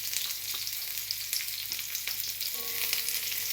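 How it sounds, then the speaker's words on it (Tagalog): Garlic frying in a pan for spaghetti, with a dense, steady close sizzle and faint stirring scrapes throughout, no voices. "Since the garlic is about to finish cooking faster"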